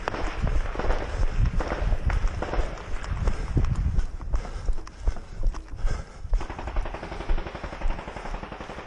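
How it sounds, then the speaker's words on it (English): Machine gun fire rattles during an intense firefight near Marinka, with rapid bursts and scattered sharp cracks at mid distance and a denser stretch of steady, fast firing toward the end. "You hear a machine gun laying down some fire."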